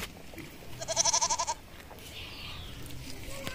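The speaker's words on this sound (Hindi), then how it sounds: "बकरी।" A goat gives one loud, wavering, nasal bleat lasting about half a second, close and clear over faint background noise.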